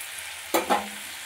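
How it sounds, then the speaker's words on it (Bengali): Cauliflower sautéing in a pan for an egg, potato and cauliflower dish, one or two quick spatula scrapes over a low, quiet sizzle, brief and close. "ফুলকপিগুলো দিয়ে বেশিক্ষণ কষাবো না, একটু কষিয়ে জল দিয়ে দেবো।"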